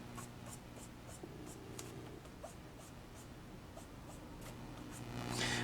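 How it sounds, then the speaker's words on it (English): Pen or brush strokes applying ink to matte cardstock, a soft, faint scratchy rubbing in short repeated strokes over a quiet room hum. "applying ink into a matte cardstock"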